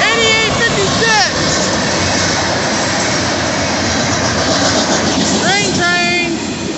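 Union Pacific locomotives lead a southbound grain train past, a steady loud rumble of rail and engine noise running throughout with two brief horn-like tonal blasts near the start and end.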